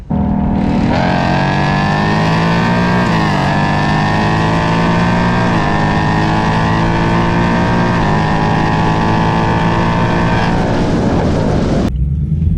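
A Cadillac Escalade V and CT5-V Blackwing drag race a Mustang, engines roaring loud and close in one long sustained pull, pitch climbing and dipping through gear changes before cutting off abruptly.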